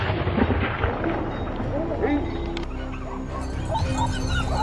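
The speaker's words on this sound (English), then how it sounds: "barking dogs and successive gunfire turned the forest into a giant trap" Hunting dogs bark repeatedly in a forest during a wild boar hunt, their yaps mixed into a dense, noisy backdrop with a voice talking over them.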